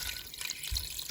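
Chicken stock is poured from a container into a Pampered Chef Quick Cooker pot, giving a short, soft liquid splash and trickle with a heavier gush near the end.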